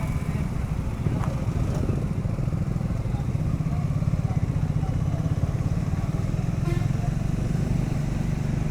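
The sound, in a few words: motorcycle riding on a highway, bike trip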